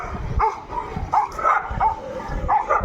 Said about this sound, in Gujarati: અને નીચે કૂતરાય બાંધે છે.